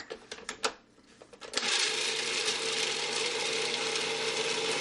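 Food processor blending mint pesto with sherry vinegar: a few clicks and knocks as the lid is set and the machine starts, then a loud continuous whirring churn that runs to the end.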